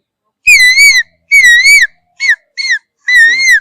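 A four-year-old child mimics a cuckoo call with five whistled, warbling notes in a row, two long, two short and a final long one, loud and close with silence between them.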